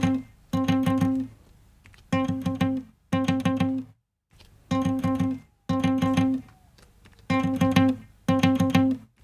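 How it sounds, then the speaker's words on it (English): Acoustic guitar through a short sample delay that spreads a mono signal into stereo: repeated bursts of strummed chords with brief gaps between them, close and steady, with no voices. "this sample delay sounds like this"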